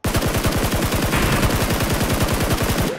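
Sustained automatic gunfire from PUBG Mobile, a rapid, evenly spaced burst of shots that runs loud and continuous for about three seconds with no talking.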